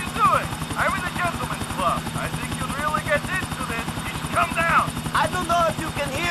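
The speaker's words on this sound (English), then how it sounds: "But I'm in a helicopter!" A helicopter's rotor thumps steadily and rapidly close by in Grand Theft Auto IV, its droning engine underneath, while a voice talks excitedly over it.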